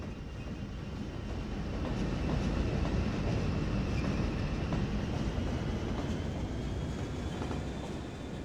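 A train passes in the city-building game Cities Skylines, a steady broad rumble of rolling wagons that swells slightly and holds for several seconds with no talking.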